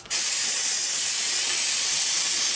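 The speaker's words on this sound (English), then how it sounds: "I'm going to clean this out with the carb cleaner" Carb cleaner hisses from an aerosol can onto a 753 starter generator in one steady, close, continuous spray lasting a couple of seconds, with no talking.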